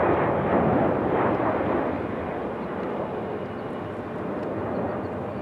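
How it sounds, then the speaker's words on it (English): Heavy Aeromexico airliner bound for Mexico City on its takeoff roll at Raleigh-Durham, a loud, rumbling jet roar that swells and then holds steady as it runs down most of the runway. "Aeromexico using up most of the runway."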